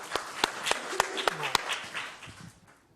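At a university panel discussion on Islam, an audience in a hall gives sparse, sharp claps, spaced out and fairly distinct, which trail off after a couple of seconds as murmuring voices take over.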